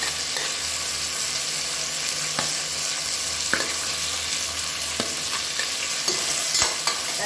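Softened onions and two medium tomatoes sautéing in a pan, a dense even sizzle under occasional spatula taps and scrapes, near and steady with nobody speaking.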